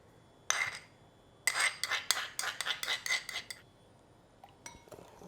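Sweet and sour sauce of sugar, ketchup and rice vinegar being mixed in a bowl, a quick run of clinking utensil strokes against the dish, then a pause and a few final taps, close and clear.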